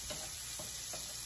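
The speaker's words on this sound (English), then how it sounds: "All right, this is browning up real good." Pork browns in sauce in a pan, making a soft, close, continuous sizzle with faint bubbling and three evenly spaced light stirring sounds over a little over a second, without any talking.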